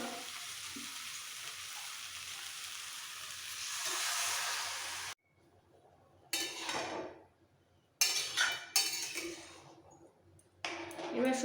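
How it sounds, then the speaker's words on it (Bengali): Hot water meets a sizzling spice masala with potatoes for a jackfruit curry. A steady sizzling hiss runs for about five seconds, then a quiet pause gives way to sharp, uneven bursts of steam and crackle. "এবার দিয়ে দেবো একটু গরম জল"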